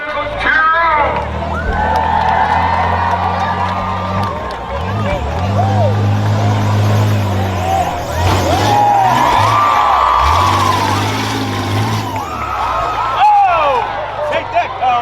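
A county fair crowd cheers and shouts loudly and continuously through a rough truck race, with engines roaring and revving underneath and excited voices rising in waves.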